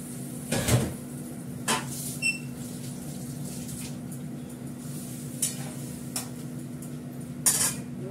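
A lid goes onto a metal pot of fish curry simmering on a gas stove, giving a few light clinks and knocks over a low, steady kitchen hum.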